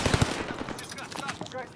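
Gunfire hitting a player in the Warzone video game, a quick rattling burst of automatic shots up front, then a continuous noisy wash of battle sound.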